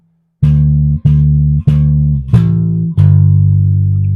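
Walking bass line on a bass playing a diatonic approach from A down to G: five sustained plucked notes, evenly spaced, loud and close, with no talk.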